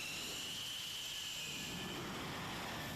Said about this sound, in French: C'est à bord de 4 avions de combat Rafale qu'ils vont sillonner le ciel balte.